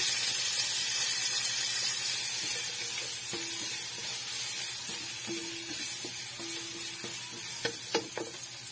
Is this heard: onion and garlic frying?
yes